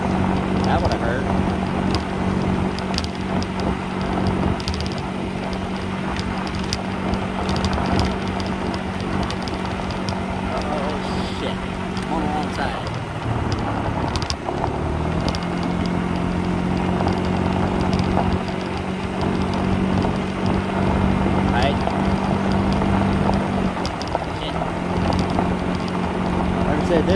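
A vehicle engine under a touchy throttle drones loud and steady, its pitch dropping and surging around midway as the throttle is eased off and reapplied, then holding a constant roar.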